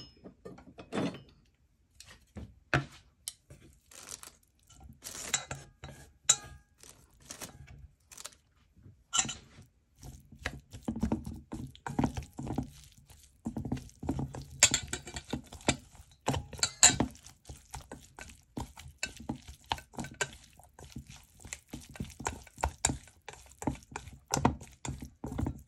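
Ingredients stirred and mixed in a bowl, with a busy run of close knocks, clinks and scraping taps in an irregular rhythm that continue steadily throughout.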